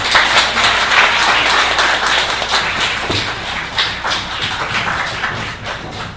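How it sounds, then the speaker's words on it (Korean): A church congregation applauds in congratulation and encouragement during a Sunday service, a dense, lively round of clapping that holds steady and eases slightly at the end. "축하 박수하고 격려 박수 보내주시기 바랍니다."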